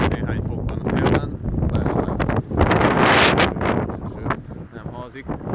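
Strong wind buffets an outdoor microphone at a cold winter street gathering, a continuous loud roar with gusty surges throughout, close and rumbling, with voices faintly mixed in.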